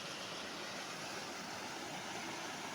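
A large waterfall roars as a steady, dense, broadband rush of water, unbroken for the whole stretch, heard in hills during a family fishing trip.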